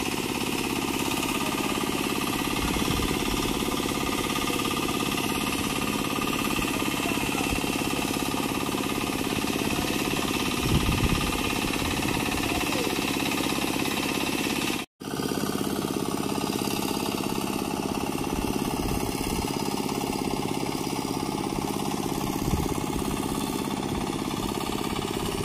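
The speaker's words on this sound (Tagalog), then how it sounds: "sa pagmamakina habang naandar po yung pag-ong" A turtle-type hand tractor tiller engine runs steadily nearby, a loud continuous mechanical drone with a rattling chug that carries on with only a brief break.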